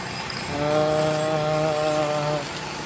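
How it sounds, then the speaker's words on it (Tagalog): A power tool runs at a construction job in front of a house, where workers repair damaged cement in the evening. A steady, droning mechanical whine rises for about two seconds over low background noise, then drops away. "may nag-uuti pa dito sa harapan namin na nagko-construction mga idol dahil nasira yung semento"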